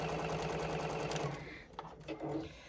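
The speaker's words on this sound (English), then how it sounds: "I'm just sewing right along that line." A JUKI sewing machine stitches steadily along a marked line for a quilted zipper bag, its motor running in a continuous close whir that eases off partway through, followed by a few soft handling clicks.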